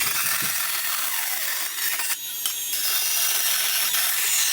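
Metal bracket bent on a brake being cut off with a power tool, a continuous harsh high grinding hiss with a brief dip partway, close and loud, no talk.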